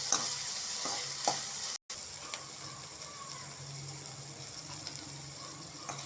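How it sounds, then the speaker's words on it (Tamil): Green chillies and curry leaves sizzle and get stirred in a hot kadai, a steady close frying hiss with occasional scrapes of the spatula, no talking. "எல்லாத்தையும் நல்லா வதக்கலாம்"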